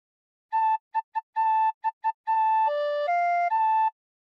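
Tin whistle playing the first phrase of What Shall We Do With the Drunken Sailor: a run of short, clear, pure tones in a bouncing rhythm, then longer held notes stepping down and back up, alone and close.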